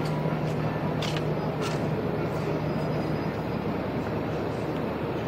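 The Subak Raftar train departs Lahore Junction under a ZCU-20 locomotive, with a continuous loud rumble of rolling stock and faint wheel squeals near the start; no speech.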